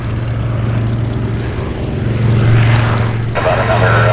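B-25 Mitchell bomber propeller engines rumble loudly and steadily while taxiing at an airshow, with a deep droning hum that swells slightly midway and a brief airy burst near the end.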